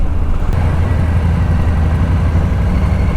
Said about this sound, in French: On se fait doubler par un camion de la poste.